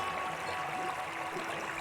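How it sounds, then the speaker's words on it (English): Stream water flowing gently over rocks, a soft continuous trickle and babble that holds steady and quiet without pause. "The sound of the water is soothing and calming."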